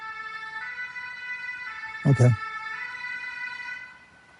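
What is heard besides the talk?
ambulance siren going by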